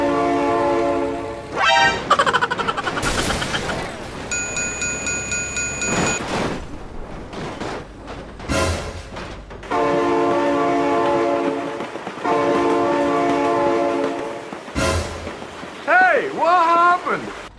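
A train blasts its horn in long, loud repeated bursts while rolling past with rhythmic clattering in the BeamNG Drive video game, mixed with crashing impacts and excited voices.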